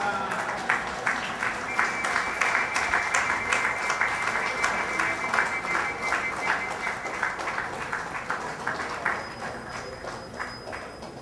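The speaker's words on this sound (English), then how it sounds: "Ladies and gentlemen, another round of applause as we acknowledge the official launch in Trinidad and Tobago of Rituals of Power and Rebellion" Audience applause at the official launch of a book in Trinidad and Tobago, a dense sustained round of clapping from a crowd, moderately loud and even throughout with a faint tone running under it.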